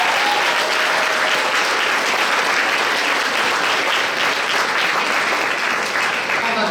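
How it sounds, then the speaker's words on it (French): Dense, steady applause fills a hall at a regional science fair final for a junior class gold medalist, loud and continuous throughout with no speech. "On peut l'applaudir."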